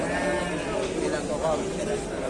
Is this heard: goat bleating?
yes